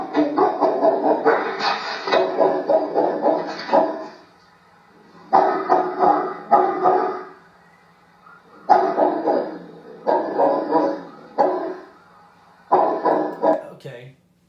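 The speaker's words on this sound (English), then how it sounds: "That's the dog barking. Big dog, 150-pound dog" A recording of a big dog of about 150 pounds barking, repeated groups of deep barks separated by short pauses, fairly loud and close.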